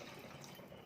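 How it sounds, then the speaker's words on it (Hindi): Water pours into a pressure cooker holding millet khichdi as a soft, steady, faint splashing rush. "इसलिए हम इसमें 1 कप पानी और डालेंगे"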